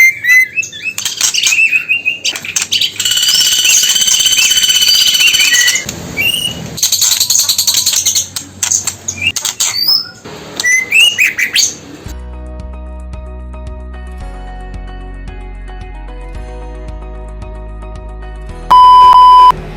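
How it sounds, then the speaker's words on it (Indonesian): Male trotol bird calling: sharp, loud chirps, squeaks and rapid trills close by. A later stretch carries steady electronic beeping tones with a brief high beep at the end. "Perhatikan baik-baik suara trotol jantan."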